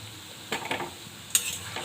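Aamir bora fritters frying in a pan, a soft steady sizzle broken by two brief bursts of stirring and scraping, close and quiet with no voices.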